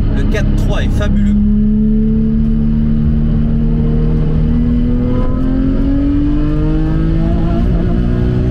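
A Porsche 997 GT3 RS sports car's 4.0-litre engine revs up loudly toward 5000 rpm, its pitch climbing steadily as it accelerates through the gears, close and continuous with road noise underneath.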